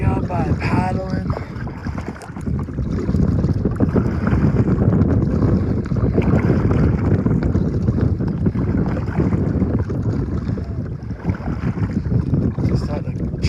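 Paddling a boat on Forest Lake in Pagosa Springs, Colorado, with steady wind buffeting the microphone, giving a continuous broadband rush and rumble throughout, with a few soft splashes or knocks and no clear talk.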